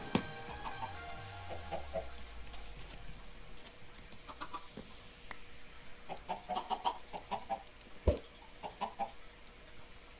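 Minecraft chickens clucking in a game world, short scattered clucks and squawks at moderate level, with a clearer burst near the end and no talk over them.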